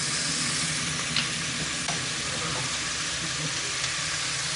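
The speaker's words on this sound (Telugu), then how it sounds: "నెక్స్ట్ ఉల్లిపాయ ముక్కలు, చిలకడ దుంప ముక్కలు, టొమాటో ముక్కలు, పచ్చిమిరపకాయ ముక్కలు వేసేసుకోవాలి" Onion, sweet potato, tomato and green chili pieces sizzle and fry in a pan of oil with occasional stirring scrapes, a steady close crackle throughout with no talk.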